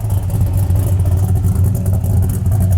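A 1965 Chevelle Malibu SS with a 427ci engine and stainless steel exhaust idles and revs steadily with a deep, rumbling low tone and light clatter, loud and close throughout, no cranking heard.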